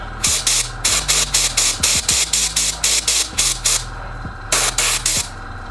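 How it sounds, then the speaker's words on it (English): Bursts of airbrush paint spray hiss in a steady rapid rhythm, about a dozen short puffs, then a pause and a few more, close and fairly loud, painting a Slaanesh Daemonette miniature. "I'm gonna angle the airbrush this way so as the spray is going this way"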